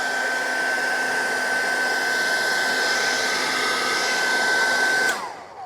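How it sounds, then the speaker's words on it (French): A heat gun blows on a Tesla Model 3 badge to soften the adhesive behind it, a steady close whooshing roar with a constant whine that winds down at the end. "on chauffe le logo pour faire un peu ramollir la colle qui est derrière"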